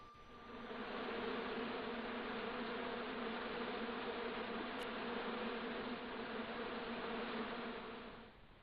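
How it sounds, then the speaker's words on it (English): Hornets buzz steadily inside a bush on an island in Broken Sword, a dense droning hum that swells in, holds at an even level for several seconds, then tapers off. "I'd seen a lot of strange things on this island, but here was a bush that was buzzing."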